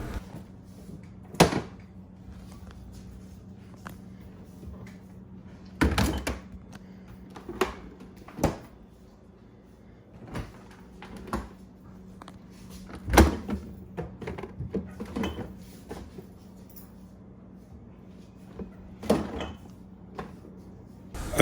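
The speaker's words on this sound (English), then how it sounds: "Now I'm going to open and close this door to see what it does." A refrigerator compartment door is repeatedly opened, closed and jerked, giving scattered thumps and clacks of varying loudness over a low steady hum.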